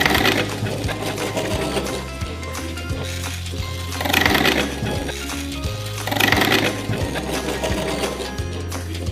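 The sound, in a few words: small electric motor of a toy car running backwards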